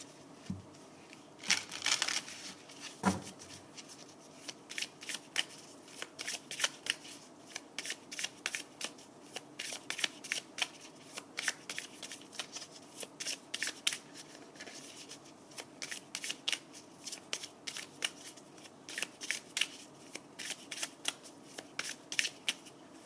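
Tarot cards being shuffled by hand, crisp rapid riffling and flicking close up, a few sharper knocks early on, then long runs of fast papery clicks.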